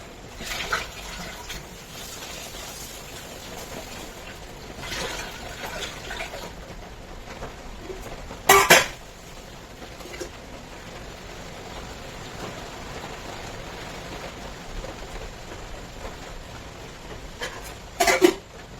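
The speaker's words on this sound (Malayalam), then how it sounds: "നമുക്ക് അരി കഴുകിയിട്ടിടാം." Rice being washed in a pot, a steady low swish of water sloshing throughout, broken by two short louder splashes or knocks partway through and near the end.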